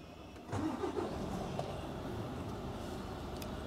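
A tractor engine turns over and then runs steadily at close range, a continuous mid-pitched rumble that holds level as it pulls away, with no voices over it.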